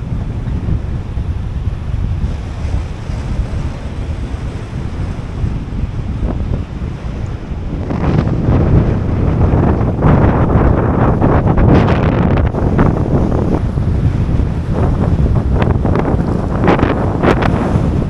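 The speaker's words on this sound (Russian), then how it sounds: "Ветер, конечно, сильный, не знаю, слышно ли меня." Strong wind at Balykchy on the shore of Lake Issyk-Kul, Kyrgyzstan, roaring and buffeting against the microphone, growing louder and gustier midway, with a steady rushing rumble throughout.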